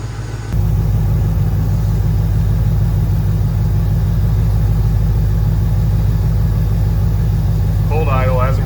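Cold-idling Ford 302 V8 in a 1987 Crown Victoria that has not run in days, starting up into a steady low rumbling idle, close and continuous, with someone speaking briefly near the end.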